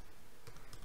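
Computer keyboard typing in a Kali Linux setup, a short burst of quiet close key clicks in quick succession over faint background hiss.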